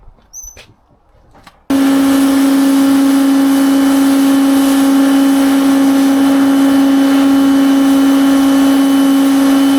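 After a few soft clicks, a pressure washer starts abruptly and blasts dirt off a motorbike's header and oil filter, a loud, steady, high-pressure whine with hissing spray running on without pause.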